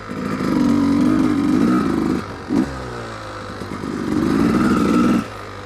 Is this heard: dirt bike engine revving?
yes